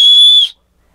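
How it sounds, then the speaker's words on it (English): A small whistle built into a 7-in-1 survival tool gives one loud, shrill, steady blast for about half a second, then stops dead into silence. "It has a shitty whistle in it."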